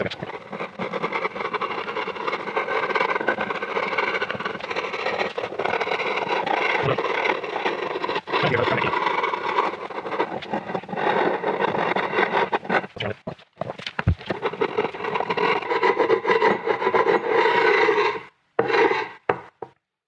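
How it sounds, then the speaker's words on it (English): Steady rasping and scraping as a chisel pares wood on a small PRS-style travel guitar body, continuous close-up strokes for nearly twenty seconds with a few brief pauses near the end. "I'm just going to clean up with a little bit of a chisel action here"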